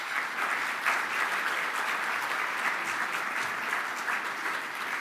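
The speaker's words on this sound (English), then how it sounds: "Please give them a round of applause." A breakfast business event crowd gives sustained applause to its sponsors, a dense even wash of clapping throughout with no voices over it.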